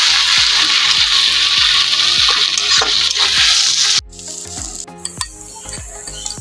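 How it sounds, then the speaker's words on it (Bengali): Rui fish filling for stuffed kakrol frying loudly in a pan, a dense sizzle with rhythmic utensil knocks against the pan, then a sudden drop to quieter sizzling with scattered clinks. "এখন আমি এটাকে একসাথে করে ভেজে নেব।"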